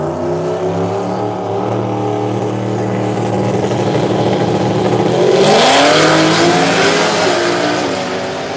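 A Mustang drag car at a Tulsa street takeover launches and accelerates hard, its engine roaring loud and close, the revs climbing steadily, then surging to a peak near the end of the run.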